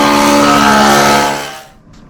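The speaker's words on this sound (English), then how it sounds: "Just landed it on the airstrip there, and now it's taking off again." A model airplane takes off from an airstrip in a desert boondocking area; a loud, steady engine whine with strong harmonic tones holds close by, then fades quickly as the plane climbs away.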